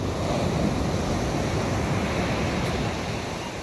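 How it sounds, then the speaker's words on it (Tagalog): Large ocean waves surge and roar continuously at close range near a small boat, a dense wash of surf with some wind noise and no voices. "Ang lalaki ng alon."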